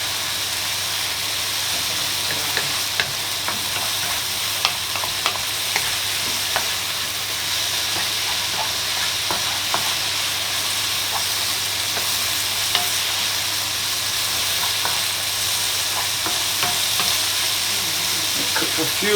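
Bacon and mushrooms fry in a pan with a steady, loud sizzle while being stirred around, small scraping clicks scattered through the continuous hiss, close and without talk.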